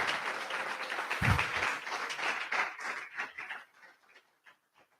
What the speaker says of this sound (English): A round of applause for Gaku, please.